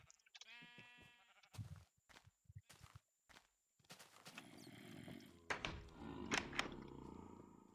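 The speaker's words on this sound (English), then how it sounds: "Oh, those sheep were very nice to me." Minecraft sheep bleat in a short run of calls at the start, then footsteps and other game sounds build, with quiet speech in places.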